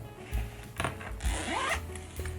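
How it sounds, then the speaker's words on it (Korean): Close, quiet zipping of a zippered e-reader case being pulled shut, a few short rasping strokes followed by a longer sliding run. "여기 지퍼가 있어서 지퍼만 잠그고 단추는 안 잠그고 다니기도 해요"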